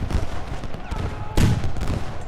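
Sharp crack of musket fire in the video game Ultimate General: Gettysburg cuts through a steady battle rumble with cannons firing, one prominent shot near the middle amid scattered distant reports.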